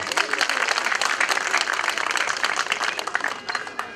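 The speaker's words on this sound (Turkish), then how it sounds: "Buradan kendilerini alkışlıyorum arkadaşlar." Crowd applause at a public gathering in Eyüp, Istanbul, a loud dense patter of many hands continuing throughout, with some voices faintly mixed in.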